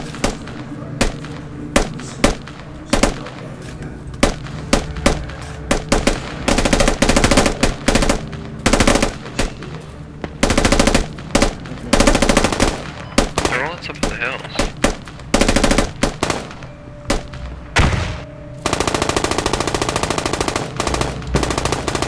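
Incoming machine gun fire in the Squad military shooter, with repeated loud automatic bursts and scattered gunshots across the whole stretch, close and harsh, with brief pauses between volleys.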